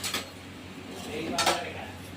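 Spice powder frying in a pan for a bitter gourd dish, a utensil scraping and clinking against the metal in a few distinct strokes over a soft background sizzle, close and moderately quiet.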